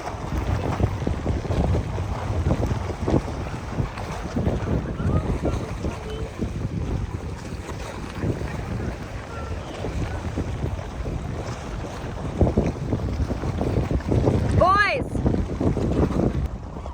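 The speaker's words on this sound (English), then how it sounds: "It's so windy, it's pushing me like with the camera." Strong wind buffets the microphone in a continuous roaring rumble out by crop fields, with gusts surging and a brief high squeak near the end.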